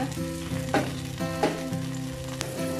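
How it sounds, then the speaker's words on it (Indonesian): Broccoli is sautéed in a pan with leftover oil for gado-gado, giving a continuous close sizzle with a few scraping stirs. "Nah, kemudian kita tumis dia."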